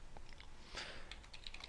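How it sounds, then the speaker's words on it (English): Keystrokes on a computer keyboard while entering disk partition commands to make a bootable USB flash drive for Windows, a few quiet scattered clicks with one louder burst mid-way, over faint steady background hiss. "We're going to set it as active by typing in the active command."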